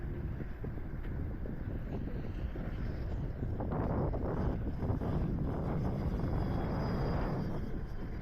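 An FMS F4U Corsair 1.4 m RC plane cruises in a strong east wind, its motor drone partly buried under a steady, heavy rumble of wind buffeting the microphone outdoors, with no talk.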